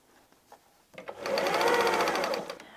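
A domestic sewing machine stitches fabric strips for patchwork with a universal needle and standard thread. It starts with a few quiet clicks, then runs into a steady, close, rapid whirring hum that fades slightly at the end.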